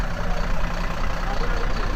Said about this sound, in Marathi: एक गाडी आता पास होईल बघूया